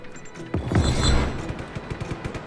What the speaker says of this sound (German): Und jetzt haben wir gleich eine mordsmäßige Explosion